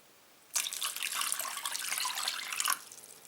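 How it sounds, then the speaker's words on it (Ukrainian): A cup of water pours steadily for about two seconds into a pot of rice-stuffed peppers, a bright splashing stream, then stops abruptly. "Тепер я налию сюди чашку води."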